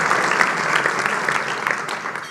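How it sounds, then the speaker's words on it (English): A luncheon crowd at a business partners awards event applauds in a dense, steady wash of many hands clapping, loud and close throughout. "Let's give them a great big round of applause as well."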